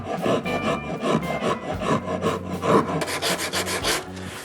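A guitar wood part is sanded with 60 grit paper on a block, giving rough, rhythmic rasping strokes close up, about one every half second, with no talking.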